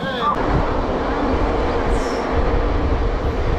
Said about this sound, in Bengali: ট্রেন এখন এসে ঢুকলো বর্ধমান জংশনে